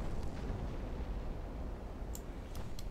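Deep rumbling explosion from a torpedo hit in the naval warfare game Ultimate Admiral Dreadnoughts, a sustained low roar with a few sharp crackling bursts near the end.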